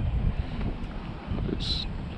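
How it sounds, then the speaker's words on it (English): Steady wind gusts rumble and buffet a microphone out on open water during a kayak fishing trip, continuous and close with no voices. "It's a little bit chilly because of the wind."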